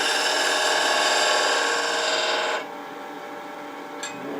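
A woodturning gouge rounds over the edge of a wooden box lid spinning on a lathe, a steady loud rasping scrape that cuts off abruptly partway through, leaving a quieter hum with a brief tick near the end.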